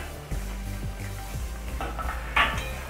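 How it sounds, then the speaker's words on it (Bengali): A metal lid lifted off a pan of soybean chilli mid-cook, with a few clinks and light knocks, then a brighter metallic scrape near the end, close and fairly quiet over a low background hum. "এই আমি 3 মিনিট পরে ঢাকাটা এবার খুলে দিচ্ছি"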